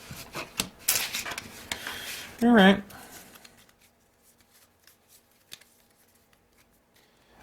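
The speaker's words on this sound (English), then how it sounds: "And so I'm shuffling this deck." A deck of game cards is shuffled for a tabletop card game, heard as a loud burst of riffling and shuffling near the microphone. Quiet handling noise follows, and a person speaks briefly.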